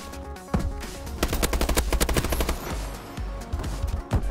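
Shotgun and other gunfire in the first-person shooter Call of Duty: Advanced Warfare, with loud, rapid bursts of shots crowding together after a short quiet start and a sharp blast at the end.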